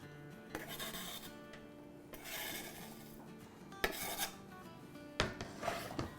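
Chopped cabbage and green onion being mixed into cooled spring roll stuffing in a bowl, soft scraping and rubbing with a few sharper utensil knocks against the dish, quiet and close with no talking.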